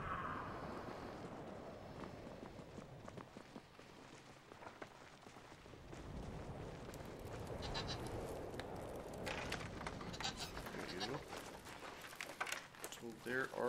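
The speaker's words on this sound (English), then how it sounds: "There are goats." Goats bleat in the video game Brothers: A Tale of Two Sons, a few soft calls rising over ambient game sound and background music while someone talks throughout.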